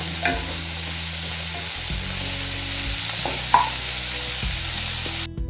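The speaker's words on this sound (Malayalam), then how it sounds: "ഇഞ്ചി വെളുത്തുള്ളി ചോപ്പ് ചെയ്തത് അത് കുറച്ച് അതിലോട്ട് ഇടുവാണേ ഇനി ഇത് ഇതിൻ്റെ പച്ചച്ചവ മാറുന്ന വരെ ഒന്ന് വഴറ്റുക" Chopped ginger and garlic sauté in a pan for clam meat roast, producing a steady crackling sizzle with occasional stirring scrapes over a low constant hum, no voices present.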